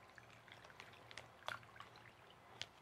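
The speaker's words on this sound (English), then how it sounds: "take that marinade we made, Hawaiian marinade, and see if I can't pour it in here without making a mess" Hawaiian marinade poured into a bag while preparing ribeye steak, heard as faint, sparse liquid splashes and drips with a few brief louder spatters, quiet overall.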